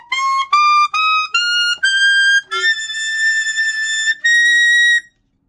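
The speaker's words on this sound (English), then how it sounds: "2 and 3 to play double altissimo G, which really is just a vented G" Alto saxophone sounding a high altissimo G with a bright, piercing whistle-like tone, played as a run of short separate notes that settle into a few longer sustained ones, close and loud with no talking.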